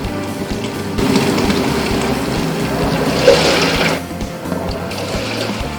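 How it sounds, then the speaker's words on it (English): A Panasonic fully automatic washing machine fills its tub, water rushing and splashing steadily into the drum; the flow strengthens after the first second and eases toward the end, with no voices. "It's now starting to put water into the tub again."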